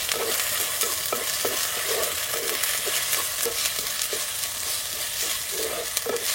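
Ginger garlic paste fries in a pan while being stirred, a steady moderate sizzle broken by repeated soft scraping strokes of a spoon, with no voices.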